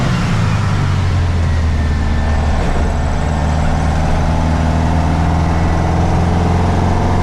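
1956 Volkswagen Beetle engine running loud while driving, a steady, droning rumble heard from inside the car with slight pitch shifts as it cruises.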